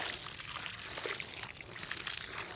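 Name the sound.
water being poured onto newly planted seedlings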